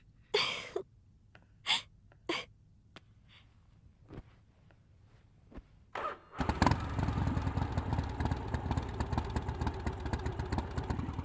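A motorcycle engine starts up after a few breathy gasps and sharp noises, then runs loud and steady for the rest of the stretch.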